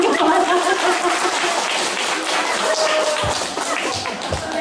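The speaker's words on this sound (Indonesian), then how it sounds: "Berikan tepuk tangan kepada." An outdoor evangelistic crusade audience in Waingapu, Sumba, claps in a dense, steady wash of applause that holds at an even level for several seconds, with no talk over it.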